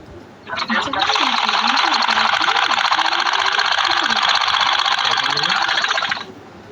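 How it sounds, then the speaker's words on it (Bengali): A sewing machine stitching folded fabric runs in one continuous fast, buzzing burst of about five seconds, close and loud, with a person talking over it. "এক ভাঁজ আর এক ভাঁজ, দুই মাথা সমান করে ধরে সেলাই"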